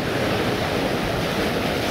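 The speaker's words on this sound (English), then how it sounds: "here's a decent sized wave now" An ocean wave washing over coastal rocks, a loud, close, continuous roar of churning surf and spray that fills the whole moment without letting up.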